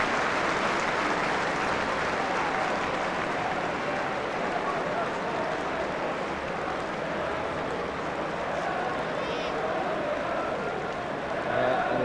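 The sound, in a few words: football stadium crowd applauding injured player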